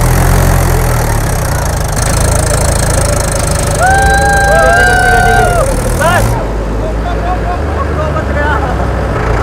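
A farm tractor engine runs steadily in a field, a continuous loud low rumble with a brief rising whine partway through, recorded close by.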